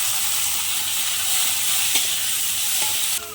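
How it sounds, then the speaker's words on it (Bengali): Prawns frying in hot oil in a kadai with onion and crushed garlic, a dense continuous sizzle and hiss at close range with a faint clink near the end. "চিংড়ি মাছটা একটু ভেজে নিচ্ছি"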